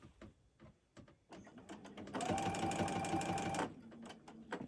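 A sewing machine quilting a cotton T-shirt quilt runs in one fast, steady burst of about a second and a half, close and clear, with quiet handling clicks before and after.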